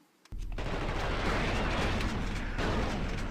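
Shotgun fire in the video game The Thing: an abrupt loud blast that swells into a dense, sustained roar of gunfire, up close and with no voices.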